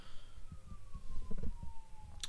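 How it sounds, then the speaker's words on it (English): A siren outside drifts in through an open window, a faint sustained wail sliding slowly downward, heard under closer indoor rustling and thumps. "Got my window open and I hear sirens outside."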